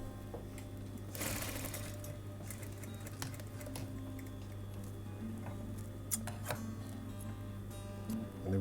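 A sewing machine runs steadily while back stitching along the existing fold line of a jacket sleeve hem, a continuous close whirring hum with faint ticking, broken by a few brief louder clicks and shifts.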